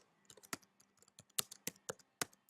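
Keys on a computer keyboard are typed in an irregular burst of sharp, close clicks, some louder than others, with short pauses and no voices.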